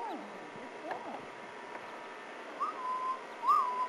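A person whistles short tones as a distraction during outdoor dog stay training, faint and intermittent, with a couple of clearer whistled notes near the end over quiet background.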